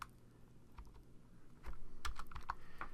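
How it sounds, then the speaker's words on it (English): Keys tapped on a computer keyboard to enter a value, a quiet run of light clicks that grows busier and slightly louder halfway through, close up with no talking. "Let me just type that in."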